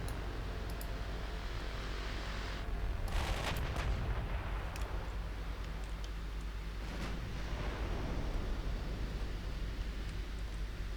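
Warship guns fire long-range naval support in Ultimate Admiral Dreadnoughts, set in 1910: booming salvos and crackling shots over a constant roaring drone, with a heavier burst early on and scattered reports afterward.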